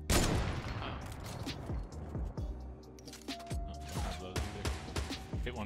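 Gunfire in a video game: a burst of close, sharp shots, then scattered single cracks and quick volleys, loud against a quiet background.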